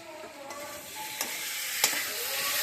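Spice masala sautéing for a winter vegetable curry, a steady close sizzle and fry with a few sharp stirring scrapes cutting through, no voices.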